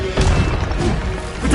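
Cast in the Hogwarts Legacy game, an Accio summoning spell lands as a dense, punchy whack with a short magical crash and low thump, loud and close across a brief burst.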